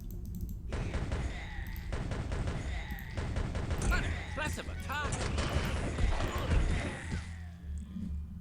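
Gunfire in Arcanum: Of Steamworks and Magick Obscura rattles in rapid clustered bursts of sharp shots, coming in dense volleys over several seconds at moderate loudness, with low rumbling underneath.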